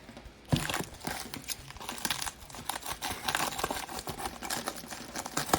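A shipping package of graded trading cards is torn open by hand, giving a close run of crinkling, crunching and ripping bursts of plastic and paper that continue irregularly throughout, with no talking.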